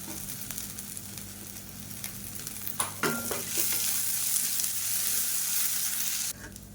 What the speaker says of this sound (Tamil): இப்போ வெங்காயம் நல்லா வதங்கிட்டு இருக்கு